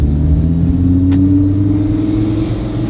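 A car engine rumbles steadily at close range, its deep exhaust note holding a low drone with a slight rise in revs.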